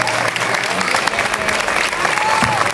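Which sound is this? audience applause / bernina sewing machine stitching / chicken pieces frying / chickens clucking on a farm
audience applause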